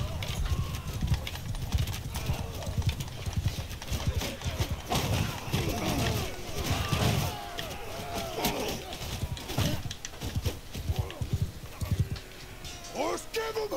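Horses gallop through a battle in Mount & Blade II: Bannerlord, a steady rush of rapid hoofbeats with a brief whinny near the end. Someone talks over much of it.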